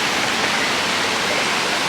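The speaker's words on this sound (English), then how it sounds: "And somewhere around this bend there should be a waterfall." Waterfall beside a crystal clear river, a steady, dense roar of falling water heard alone without voices.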